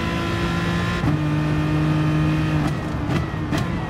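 Race car engine in an Aston Martin versus BMW racing game, droning steadily at high revs, then dropping pitch as it downshifts and climbing again under acceleration, with sharp blips from further shifts near the end.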